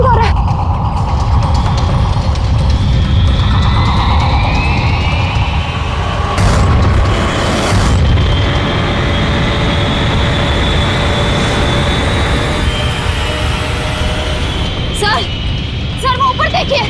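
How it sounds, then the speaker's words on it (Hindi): A TV drama missile launch from an island comes through as a loud, continuous low rumble and roar with sweeping whooshes and a sharp burst midway, filling the scene throughout. "टापू से मिसाइल छोड़ी गई।"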